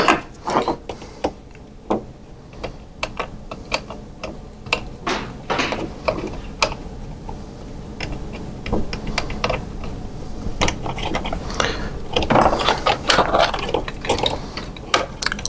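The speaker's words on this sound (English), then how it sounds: "Now I can go ahead and reinstall the connectors." Wire harness connectors being pushed back onto a Williams System 11 pinball alphanumeric display board, a steady run of close plastic clicks, snaps and small handling rattles with no talk.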